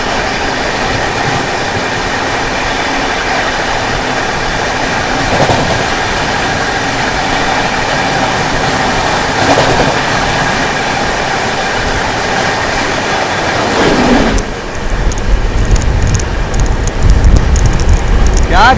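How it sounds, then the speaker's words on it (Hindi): The Maharashtra Sampark Kranti Express passes the Bhopal Jodhpur Express at speed, a steady, loud roar of wheels and rail noise that shifts into a harsher, rattling rush near the end. "अपनी महाराष्ट्र संपर्क क्रांति एक्सप्रेस ओवरटेक करने जा रही है भोपाल जोधपुर एक्सप्रेस को"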